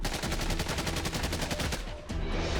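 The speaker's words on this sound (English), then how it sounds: "The M4 system has inspired several variations, including the Heckler & Koch 416, one of the new breed of modern assault rifles." Heckler & Koch HK416 gas-operated assault rifle firing a rapid automatic burst of evenly spaced loud cracks, close and continuous, a brief pause near the end before firing resumes.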